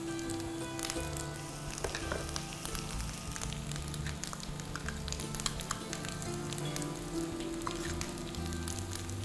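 Spices frying in a pan with ginger and garlic, a fairly quiet, continuous sizzle with scattered crackles and pops throughout. No one speaks.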